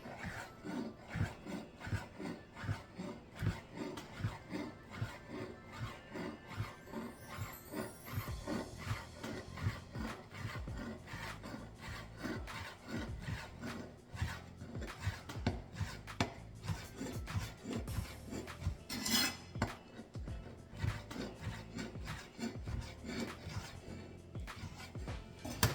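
A knife slicing rolled keto pasta dough into quarter-inch fettuccine strips on a board, a steady series of repeated cutting strokes throughout, close and moderately quiet, with no talk.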